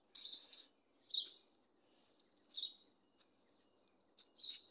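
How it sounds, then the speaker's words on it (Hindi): Small birds chirp in a quiet morning garden, five or six short high tweets spaced irregularly over a few seconds, faint and a little distant against near silence. "पक्षी चहचहा रहे हैं।"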